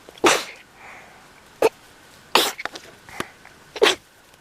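Several sharp sneezes burst out close by, separated by short pauses, with a few smaller sniffs and breaths between them.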